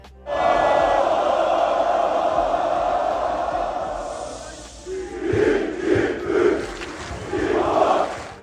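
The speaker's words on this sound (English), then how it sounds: "the crowd welcoming him was wild" Football supporters at Galatasaray give Victor Osimhen a wild welcome, a loud sustained roar of a large crowd that later breaks into rhythmic chanting swells.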